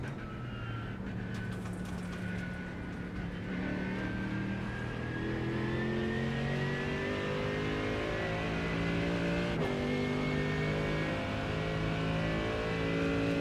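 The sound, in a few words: race car engine revving in the iRacing video game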